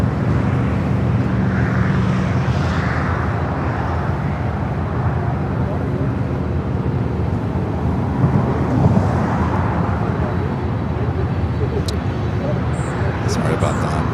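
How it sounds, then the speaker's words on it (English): United Boeing 787-9 Dreamliner arriving at LAX, a steady broad jet roar heard from a distance that holds throughout, with people talking over it. "We do have another United Dreamliner arrival."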